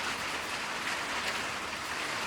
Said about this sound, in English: And the rain has picked up.